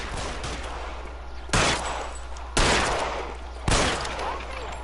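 Gunfire in the L.A. Noire crime game, three sharp loud shots spaced about a second apart over a low steady background hum, with no talking.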